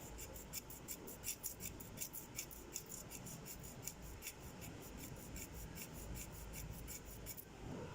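A nail file rasps back and forth across fingernails, shaping them in steady, quick strokes that repeat for several seconds at close range, with no voices.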